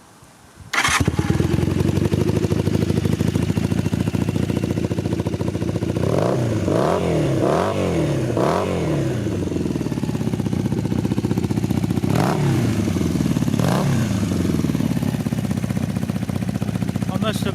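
Classic motorcycle fitted with Mega exhausts starts up, then idles loudly with several sharp throttle blips and revs rising and falling, followed by steady idling; a voice is heard faintly under the engine.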